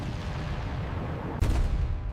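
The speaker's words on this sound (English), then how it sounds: "anti-aircraft fire bursts near her aircraft" Anti-aircraft fire bursts in a dramatized air battle over Iraq, a dull rumbling roar of distant combat noise broken by one sudden heavier boom about halfway through, with no speech.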